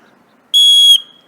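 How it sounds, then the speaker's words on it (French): A hiker's safety whistle, used on a coastal trail in Finistère, gives one short, piercing shrill blast lasting under half a second after near silence, then cuts off quickly. "le sifflet dont on parlait, c'est ça"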